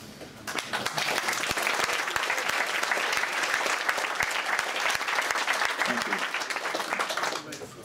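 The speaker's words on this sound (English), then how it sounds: "I'd like to donate the clap you've just done to Hannah and the organisers here" A protest meeting audience claps loudly and densely, the applause rising quickly, holding strong for several seconds with some voices mixed in, then fading out near the end.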